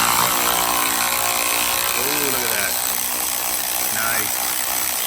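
A tool loosens the top 13 mm bolt on a truck coolant tank with loud, steady mechanical whirring and a few rising squeals, recorded close up.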